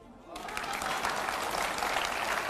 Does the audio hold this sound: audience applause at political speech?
yes